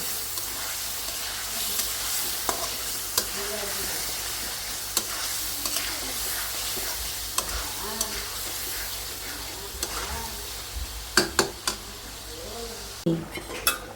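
Fish pieces being sautéed and stirred in a pan in a home kitchen, a steady close sizzle of frying under scraping and clinking from the spatula against the pan, with a few sharper knocks near the end.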